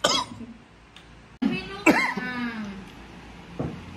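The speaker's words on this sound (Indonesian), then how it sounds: "Lagi diserang batuk" Several coughs and throat-clearing sounds up close after eating noodles with bird's eye chili, mixed with brief vocal noises in a quiet room.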